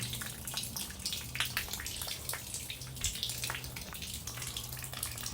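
Water drains steadily from a 10x20x7 greenhouse that sits off level, pattering and dripping onto the ground in a continuous close trickle with no voices.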